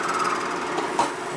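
A hand file rasps back and forth across a metal part from a 1961 Harley-Davidson FL 74ci panhead engine during a rebuild, giving close, steady, gritty scraping strokes.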